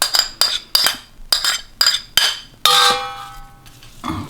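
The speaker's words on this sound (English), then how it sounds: "make sure you take heaped teaspoons of the masala." Metal teaspoon scraping and clinking against a container while scooping heaped spoonfuls of masala for a coconut lamb kofta curry; five sharp, evenly spaced clinks, then a brighter ringing knock and a softer final tap, close and alone.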